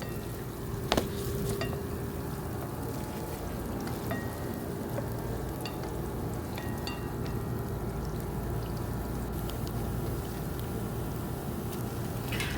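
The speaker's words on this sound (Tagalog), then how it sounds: "sa ating frying pan at naglagay tayo ng garlic and ginger, onion. Yan, susutilin lang natin" Garlic, ginger and onion sizzle steadily in a frying pan, a constant close hiss with occasional light scraping and stirring clicks throughout.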